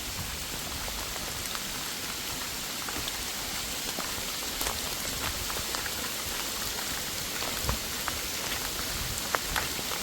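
Steady rain falls at a Mullaitivu training camp with bunkers, an even hiss of drops with occasional louder individual splashes close by, continuous and moderate, no voices.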